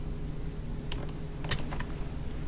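A few quick, faint clicks of a Ctrl key combination pressed on a computer keyboard during 3D CAD work, over a quiet room hum.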